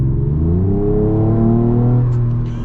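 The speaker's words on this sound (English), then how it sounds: "we'll open up the valves." A Ford Ranger Raptor pickup revs loudly with its exhaust valves open, a deep rising and falling engine roar close by that fades slightly at the end.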